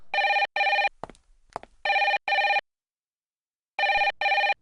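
A telephone rings in a small rural police outpost, sharp electronic double rings repeating in pairs with gaps of silence between, close and clear.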